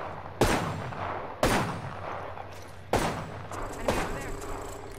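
Gunshots in the battle royale game Apex Legends, about four sharp, loud reports spaced roughly a second apart, each trailing off into a short echoing decay over a low steady background hum.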